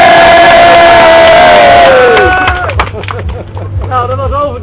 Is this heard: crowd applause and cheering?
yes